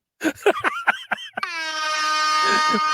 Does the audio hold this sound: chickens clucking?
no